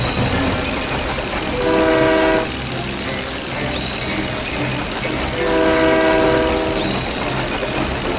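Train passing in the Disney Planes racing game, with two sustained horn blasts a few seconds apart over a steady rumbling engine and track background; no talking.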